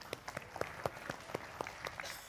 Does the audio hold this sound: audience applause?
yes